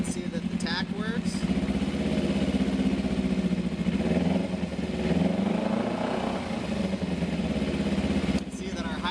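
Kawasaki Ninja 250 motorcycle engine idling close by with a steady, even low rumble throughout, with a few brief clicks and faint background sounds over it.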